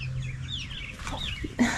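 Silkie chickens clucking and murmuring inside a greenhouse coop, several birds overlapping in soft continuous chatter, with a louder squawk near the end.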